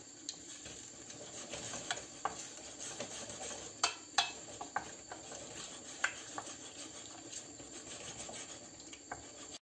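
Salt cod brandade being stirred in a pan, with faint scraping and soft clicking taps of a utensil against the pan in an irregular rhythm, quiet and close.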